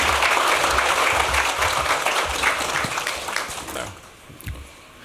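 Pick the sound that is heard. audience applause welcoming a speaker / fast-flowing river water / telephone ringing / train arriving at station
audience applause welcoming a speaker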